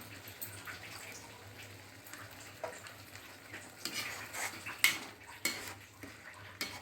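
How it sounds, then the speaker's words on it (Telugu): Jackfruit curry frying in a pan as water goes in, with a soft steady sizzle, intermittent metal spoon scrapes and clinks against the pan, close and moderately quiet. "ఇప్పుడు కొంచెం వేగిన తర్వాత అందులో కొన్ని వాటర్ యాడ్ చేసుకోండి."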